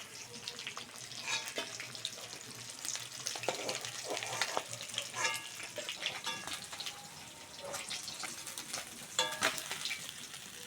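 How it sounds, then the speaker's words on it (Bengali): Puti fish sizzling as it fries in hot oil, a busy crackle of bubbling and spitting with occasional stirring clatters, steady and close throughout with no voices. "বেশ লাল লাল করে ভেজে নিয়েছি তেল থেকে তুলে নেব"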